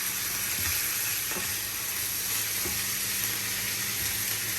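Vegetables for chow mein stir-fry in a hot pan with a constant bright sizzle and hiss, broken by a few soft knocks of the utensil moving them around.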